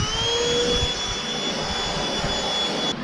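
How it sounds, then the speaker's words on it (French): A vacuum cleaner runs aboard a boat, droning steadily and loudly with a high whine throughout, and cuts off briefly just before the end. "on aspire"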